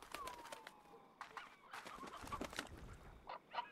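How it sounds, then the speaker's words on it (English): A little hen clucks in the video game Slime Rancher, a string of short bird calls and chirps scattered across a few seconds, fairly faint and set against soft ambient game sound. "there's a little hen"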